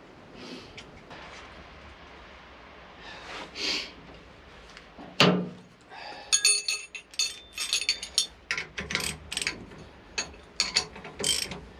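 New bolts are being fitted and tightened, with quick bursts of ratchet clicking, metallic clinks and clanks coming in irregular groups close by, separated by quieter pauses.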